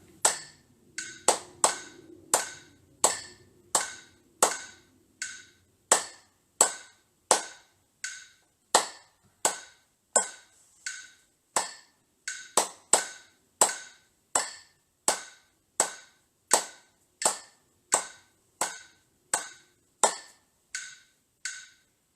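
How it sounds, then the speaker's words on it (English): A single pair of hands claps the rhythm of Mary Had a Little Lamb, with sharp, close, evenly spaced claps and occasional shorter gaps following the melody's pattern. "I'm gonna try to hear that music in my head and try to clap."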